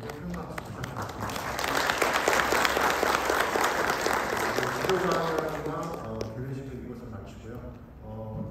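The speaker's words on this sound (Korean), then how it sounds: "좋은 발표 주신 박정우 대표님께 큰 박수 부탁드립니다" An audience applauds after a keynote talk at the ICROS 2022 control and robotics conference, a dense sustained clapping that swells early, holds steady, then gradually thins out and fades.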